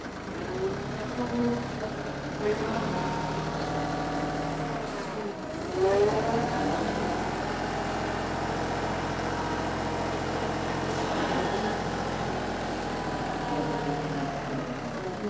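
Compact 25 HP tractor engine working steadily while handling a 4x5 hay bale, a continuous mid-level diesel drone with a few brief revs and a short dip partway through.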